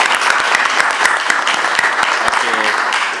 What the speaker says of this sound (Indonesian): Tepuk tangan dong buat mereka bertiga.